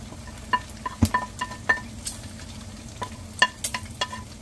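Onion and garlic sautéing in a pan for ginisang ginamos give a soft, steady sizzle broken by scattered clinks and scrapes of a spatula stirring, close and moderately quiet.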